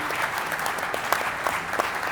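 A panel audience breaks into brief, brisk clapping, a close, lively patter of many hands with no talk over it.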